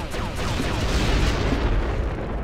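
Blocks exploding in the Descent 3 video game, with a sustained, rumbling explosive roar that holds steady and loud for the whole stretch, no talk.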